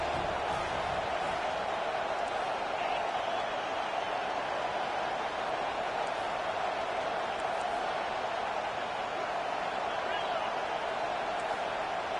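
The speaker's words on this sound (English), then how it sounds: "Decibels rising as the crowd gets behind this defense on 3rd down." A football crowd at a stadium roars steadily as the defense lines up on third down, a broad, continuous wall of cheering noise that holds level throughout without breaks.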